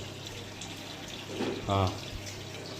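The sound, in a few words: water pouring from a pipe into an air cooler's tank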